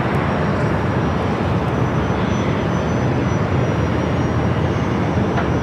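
Alaska Airlines passenger jet in old livery at Los Angeles airport, a loud continuous engine roar with a broad rushing hiss and a faint high whine, steady throughout.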